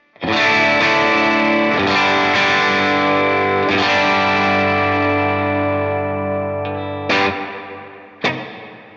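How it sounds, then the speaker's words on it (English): An electric guitar runs through the light rhythm reverb preset of a Line 6 HX Stomp on a worship pedalboard. One loud strummed chord rings out with a long lush tail, then two short stabbed chords follow, each trailing reverb. "The first level of reverb I have is perfect for rhythm sounds, and this is what that sounds like."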